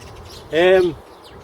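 Birdsong in an allotment garden: a single short melodic call with stacked harmonics, fairly close and clear over a low outdoor background.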